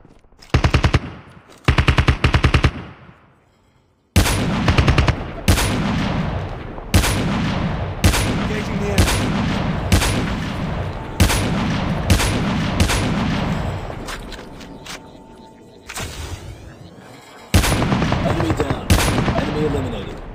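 Video game gunfire in Call of Duty Mobile: loud bursts of automatic fire and single shots, some long rattling strings, separated by brief pauses, with no talking over them.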